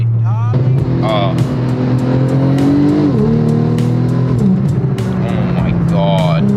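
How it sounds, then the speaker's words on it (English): A Porsche 997 Turbo with a modified exhaust revs hard while accelerating, a loud close engine note rising in pitch with gear changes and a brief dip midway. Someone talks over the engine. "The exhaust on this thing sounds so good."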